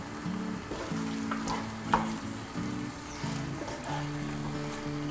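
Chicken cooking in coconut milk for a ration-rice chicken biriyani sizzles and bubbles steadily in a pan with occasional stirring clinks, while background music plays over it.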